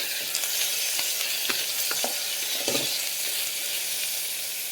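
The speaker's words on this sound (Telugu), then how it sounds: "ఇలా పన్నీర్ ముక్కలు 2 నిమిషాలు వేగిన తర్వాత" Paneer pieces fry in a pan, giving a dense, even sizzle with a few brief stirring scrapes, close and fairly loud, with no talking.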